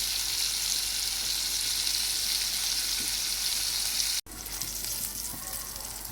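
Goat meat fries with ginger, garlic, turmeric, chili and onion in a loud, continuous, close-up sizzle that briefly cuts out and then resumes.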